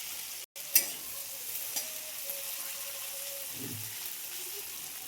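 Poppy seed paste fries in a pan with a soft, steady sizzle and an occasional stirring scrape, fairly faint and close, with no talking.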